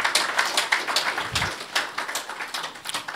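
Audience applause after a presentation at the Bulawayo Investment Conference, a steady dense patter of many hands clapping at moderate level, sustained throughout without speech.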